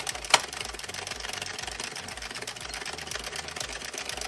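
An Addi circular knitting machine being cranked, giving a continuous rhythmic mechanical whir with one sharp click from the row counter near the start, and no talking.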